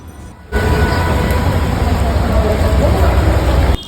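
Steady rain pours down in Mirpur, Dhaka, a dense broadband hiss that starts abruptly and holds evenly before cutting off near the end.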